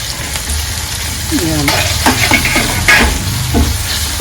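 Tomatoes hit a hot pan of onion and turmeric, setting off a steady, loud, close sizzle with scraping stirs and brief clatters over it, and no talking.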